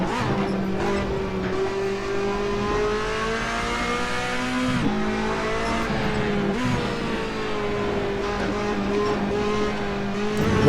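A racing car engine in the video game Assetto Corsa revs hard and continuously, its pitch rising and falling through gear changes, with brief tyre noise and no talking.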